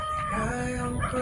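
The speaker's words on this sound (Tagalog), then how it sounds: "Gandang klase rin itong mga manok na nandito." Chickens and a rooster crowing at a farm where gamefowl are kept for breeding, the crow rising over steady clucking and background clatter, fairly close, with no talking.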